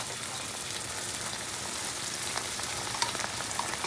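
Tomato pulp poured over onions frying in a pan for a Southern Italian lasagna, giving a steady, close hiss and sizzle with a few soft stirring clicks throughout.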